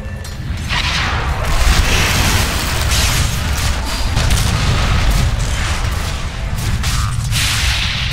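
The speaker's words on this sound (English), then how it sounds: "Dire's middle tower is under attack." A Dota 2 tower under attack during a pro match: dense, continuous battle noise of booms, spell impacts and weapon hits, steady and loud throughout with no clear pauses.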